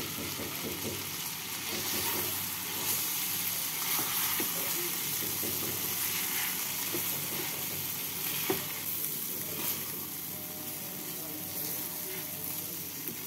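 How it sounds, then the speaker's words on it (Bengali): Fried rice and pointed gourd pieces are stirred together with spices in a hot pan, giving a steady sizzle with scraping stir strokes and occasional utensil clinks, close and continuous. "চাল দিয়ে পটলের সাথে নাড়াচাড়া করে নিচ্ছি"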